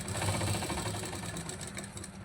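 A sewing machine runs steadily while stitching a baby frock, its continuous motor hum and rapid needle chatter holding close and even throughout, with no talk over it.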